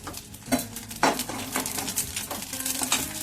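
Curry leaves, cumin and mustard seeds tempering in a hot pan for wagharela bhath, with a few sharp clatters of a spoon against the pan over soft steady sizzling, close up and without talk.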